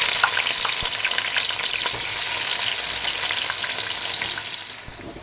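Onion drops into hot oil with garam masala and fries in a loud, bright sizzle with dense crackling. It stays steady throughout and eases slightly near the end, with no voices.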